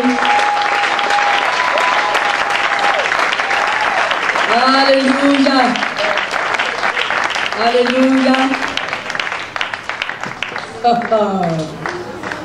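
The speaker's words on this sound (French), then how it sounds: "On acclame très fort le Seigneur notre Dieu." A church congregation claps and cheers loudly in praise, a dense sustained applause with voices singing and shouting over it before it thins toward the end.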